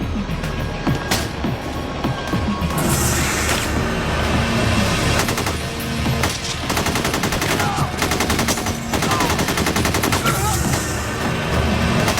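Rapid automatic gunfire rattles through a bank robbery shootout in an action movie, dense loud bursts and sustained fusillades with booming impacts over about twelve seconds.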